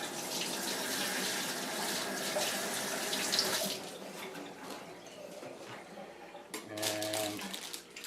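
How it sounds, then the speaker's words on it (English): Hands are washed under a running kitchen tap during salad preparation, a steady close splashing rush of water that eases and thins midway, then a brief fuller gush near the end. "Just wash my hands a bit."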